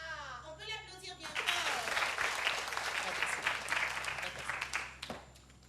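Studio audience on an Ivorian TV show with the group Magic System bursting into loud, sustained applause after a short stretch of speech, the clapping holding dense and even for several seconds before a sharp clap ends it.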